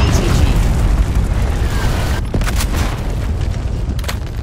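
Cluster grenades going off in a Call of Duty match, a run of loud, heavy booms and bursts with a sharp crack partway through, close and dense, with voices mixed in.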